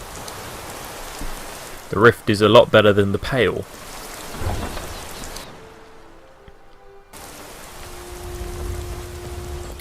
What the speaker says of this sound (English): the rain could be worse.